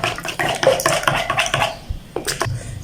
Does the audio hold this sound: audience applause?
no